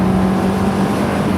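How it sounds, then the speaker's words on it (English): A four-cylinder American car with a six-speed gearbox revs hard toward 9,000 rpm, its engine a loud, constant, harsh drone that holds steady throughout with no pauses. "It's got too many gears, 6, not enough cylinders, 4, and it does too many revs,"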